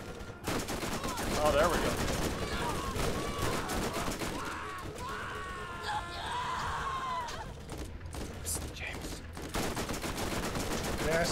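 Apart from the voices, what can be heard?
SMG gunfire in the video game Borderlands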